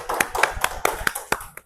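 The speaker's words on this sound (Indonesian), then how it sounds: "Tepuk tangan untuk Saudari Bunga." A classroom applauds a student with a short burst of clapping, about eight sharp claps at an uneven pace.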